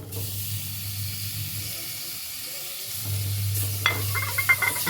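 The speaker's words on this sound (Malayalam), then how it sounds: "നമുക്കിതിലേക്ക് തക്കാളി ഇട്ട് കൊടുക്കാം കേട്ടോ" Tomato going into a frying papaya curry in a pan, with a steady hiss and sizzle throughout and a few light stirring clatters near the end.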